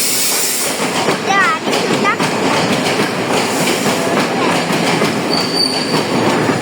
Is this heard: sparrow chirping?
no